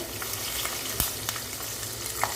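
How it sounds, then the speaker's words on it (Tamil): Green chillies and garlic fry in hot oil for a tamarind-style curry with drumstick and mango, giving a steady, close sizzle with occasional light stirring clinks. "பச்சை மிளகாவும் பூண்டும் நல்லா எண்ணெயில் வரைஞ்சிருக்கு"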